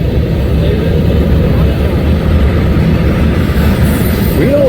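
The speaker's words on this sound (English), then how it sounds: "we had a unit train of coal" A coal unit train rolls through Bailey Yard rail yard as a loud, steady, close low rumble that holds without break, with a faint rising squeal near the end.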